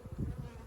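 A steady, close buzzing of many honey bees at a hive, low and droning, with a slight pulsing swell over a brief moment.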